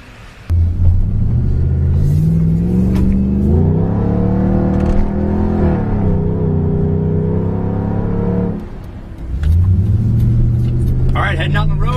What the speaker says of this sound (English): heading out on the road in the Jeep Grand Cherokee SRT8, equipped with the 5-pound supercharger.